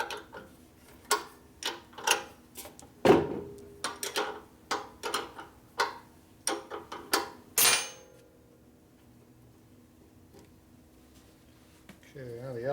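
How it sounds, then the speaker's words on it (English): A wrench works the pinch bolt on a 1967 74ci Harley-Davidson shovelhead FLH, giving a run of sharp, close metallic clicks and ratchet ticks in irregular bursts before falling quiet. "Loosen up the pinch bolt here."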